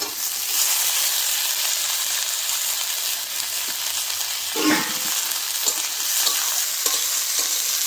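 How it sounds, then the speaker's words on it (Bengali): Vegetables hit hot oil with lightly reddened onions and fry in a steady, close sizzle, with a brief louder burst and stirring scrapes midway and no voices. "আমি এখন সবজিটা ঢেলে দিচ্ছি।"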